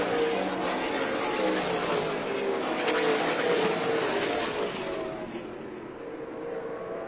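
Stock race cars at Tucson Speedway roar steadily around the track, engines loud and droning, with the pitch shifting slightly as they pass, and the noise fades a little toward the end.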